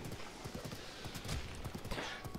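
Rapid hoofbeats of a horse galloping in the video game Zelda: Breath of the Wild, a quick, steady clip-clop rhythm heard close and alone, moderately loud.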